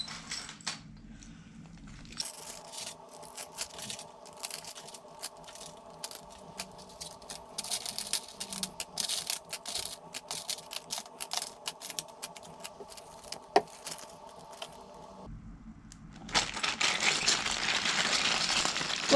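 Computer keyboard keys from an Acorn Electron are dropped into a plastic bag with peroxide, giving a dense run of small plastic clatter and rustling at close range, then louder bag rustling near the end.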